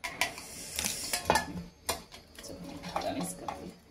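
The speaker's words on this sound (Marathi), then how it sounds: "ह्या बाउल मध्ये मी ट्रान्सफर करते." Chopped onion and tomato salad tipped into a bowl, with a run of close clinks, scrapes and soft stirring knocks of a spoon against the dish, the sharper taps spaced irregularly and a few faint words in the background.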